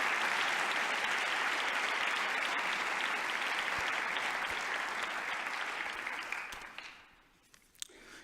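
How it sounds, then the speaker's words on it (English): Audience applause for the Black Student Union at a lecture, with sustained clapping from a large crowd that fades out after six seconds into a quiet room. "let us please once again give a round of applause for the young brothers and sisters of the Black Student Union at this institution"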